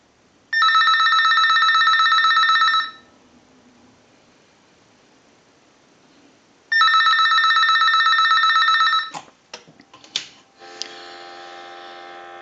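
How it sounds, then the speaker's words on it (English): A Galway Irish Crystal telephone rings as it is tested from an analyzer, giving two loud, bright bell rings of about two seconds each, separated by a pause, followed by clicks and a steady tone. "we'll use our analyzer and we'll ring the unit. We're going to let that go a few times."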